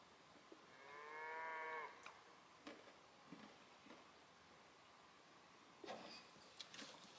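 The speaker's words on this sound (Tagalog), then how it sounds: "Ang galing ng mga baka." A single cow lets out a long low moo outdoors in the countryside of southern France, followed by faint scattered clicks and knocks in an otherwise quiet open-air setting.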